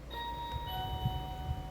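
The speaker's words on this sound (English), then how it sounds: "So let's press the doorbell." A Xiaomi Smart Video Doorbell 3 chime sounds faintly in the background after the button is pressed, with two sustained ringing tones starting in quick succession over a low room hum.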